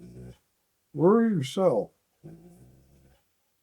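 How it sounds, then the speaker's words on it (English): A puppy makes whining, growling vocal sounds in two rising-and-falling bursts, close and fairly loud, with a person talking quietly before and after. "my puppy's talking to me"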